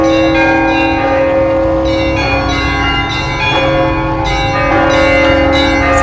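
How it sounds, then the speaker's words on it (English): Church bells of St. Nicholas Cathedral in Nice ring loudly and continuously, several bells overlapping in a rich, sustained peal with no talking. "The bells of the church is ringing."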